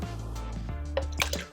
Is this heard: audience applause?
no